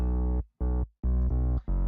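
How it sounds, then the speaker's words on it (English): Synth bass built in Serum from a saw wave with heavy effects, playing four sustained, harmonically rich notes separated by short gaps, loud and alone. "This bass was made with Serum"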